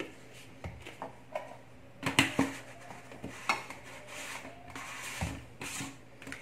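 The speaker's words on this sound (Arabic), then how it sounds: "غادي نميكسي هاد البروتين مع البيض حتى كيندمجوا مع بعضياتهم مزيان." A spoon scrapes and clinks against a bowl while protein powder and eggs are stirred together, an irregular series of close knocks and rubbing strokes with no talk.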